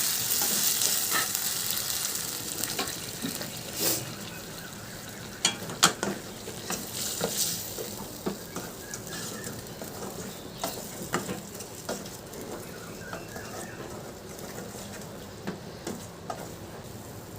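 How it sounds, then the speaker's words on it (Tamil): Fried cabbage is tossed and stirred through sauce in a pan for cabbage manchurian, giving a continuous sizzle broken by sharp scraping clicks of the spatula, with no talking. "இப்போ வந்து நம்ம பொரிச்சு வச்சுருக்கிற முட்டைக்கோஸை வந்து நம்ம இதில் போட்டு ஃபுல்லாக நம்ம பரட்டி எடுத்துக்கலாம்"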